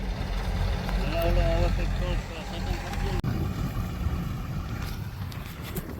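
A tractor engine runs on a farm field, a close, steady rumbling drone with a rising and falling whine early on, and someone talks over it.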